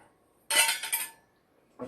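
Clinking of toy cookware from an IKEA children's play kitchen set, including a wok, frying pan, bowls, strainer and lid, in a short close burst of rattling metal, then a brief second clatter after a pause.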